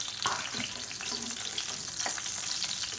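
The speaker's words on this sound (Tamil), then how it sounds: "சேர்த்து நல்லா வதக்கி எடுத்துக்கலாம்" Eggplant pieces sauté in hot oil in a pan, giving a steady close sizzle with a few scattered crackles and spatters throughout, no voices.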